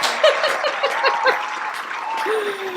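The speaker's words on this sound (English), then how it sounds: "it's just a little bit of delayed applause" Short burst of delayed applause sound effect, a cluster of claps with bright tonal accents, fairly close and fading out over under three seconds, with a faint chuckle mixed in.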